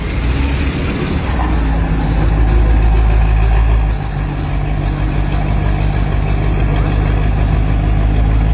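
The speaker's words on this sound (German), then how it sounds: "Linke Bahn, der Daniel Nikolic, 560 PS im R35 GTR" Nissan GTR R35 with 560 PS at a drag race start, a loud continuous low engine rumble with steady mid-frequency drone and no clear revving peaks.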